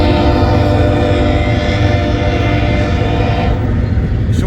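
BNSF freight train led by an ES44C4 locomotive, a loud sustained horn blast with a rich harmonic chord over rumbling engine and rail noise, close by.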